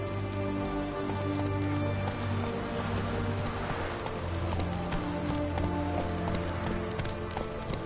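Hooves of Roach, the horse in The Witcher 3, clip-clop steadily through a rainy scene with a steady music bed and pattering rain, the footfalls moderately close and continuous.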